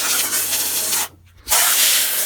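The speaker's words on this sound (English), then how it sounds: "I sprayed myself back in the face." A spray can hisses in two loud bursts with a short pause between them while a 1995 Rally push mower deck caked with grease is cleaned.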